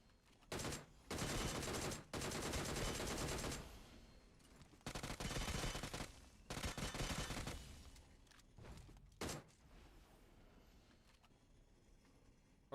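Video game gunfire comes in several dense automatic bursts, loud and close, separated by short pauses and a few single shots, with quieter game sounds in between and no talking.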